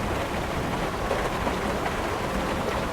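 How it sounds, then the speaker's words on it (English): Steady rain falling on a surface, a dense, even hiss with no breaks and no voices. "I'm just wondering how long this rain is going to last."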